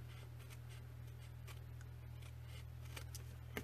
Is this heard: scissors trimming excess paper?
yes